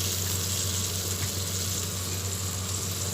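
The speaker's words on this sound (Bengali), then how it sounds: "মশলা বাটিটা ধুয়ে জলটা দিয়ে দিলাম।" Water from a rinsed spice bowl pouring into a mustard mixture, a steady soft trickling splash heard alone at low level.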